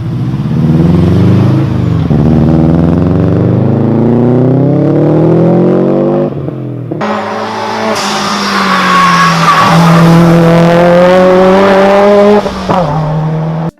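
A Subaru Impreza 2.5 RS in Need for Speed Underground, its engine revving loudly up through the gears with rising tones, shifting, then climbing again with tire squeal, close and continuous with no talk.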